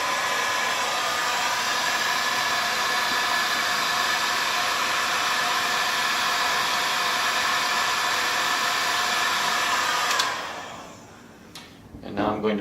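A hot air blower heats an APM flight controller with a loud, steady rushing hiss for about ten seconds before cutting off, leaving a few faint clicks and handling sounds.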